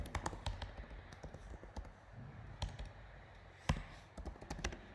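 Typing on a computer keyboard while coding in Android Studio: close, irregular clicks and taps in quick bursts with a few louder key strikes, no voices.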